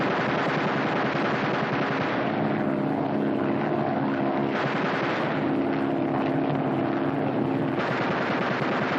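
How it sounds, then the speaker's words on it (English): Machine gun bursts from WWII bomber gunnery training, rapid rattling fire over a steady loud aircraft engine drone, with breaks in the firing between bursts. "Fire 3 bursts each in rotation"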